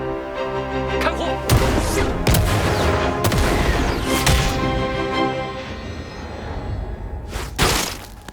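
Gunfire from a newly made rifle in an animated series, several loud sharp bursts and booms over a dense, busy background with rising and falling sounds.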